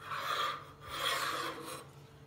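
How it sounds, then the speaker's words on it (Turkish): A knife cuts oiled yufka pastry sheets into triangles, heard as soft, dry rasping strokes, two longer passes close by and fairly quiet, with no talking. "Yufkalarımızı güzelce yağladım ve kesiyorum. Üçgen şekilde keseceğim."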